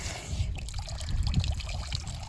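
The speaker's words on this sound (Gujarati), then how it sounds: "ભેંસો આ રીતે કંઈક પાણી પીએ છે" Buffaloes drink from a water-filled pit dug in the ground, giving close, wet sloshing and trickling gulps in uneven pulses that continue throughout.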